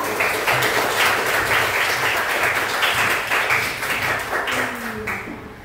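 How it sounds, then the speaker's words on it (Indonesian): Classroom students clapping together in a brisk, steady burst of applause that runs several seconds before fading out near the end. "Tepuk tangan untuk siapa?"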